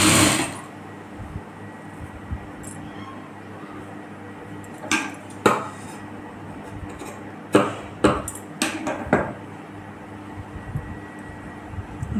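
A sewing machine stitches the front of a blouse in short separate bursts, with sharp mechanical clacks and pauses between runs over a low background hum.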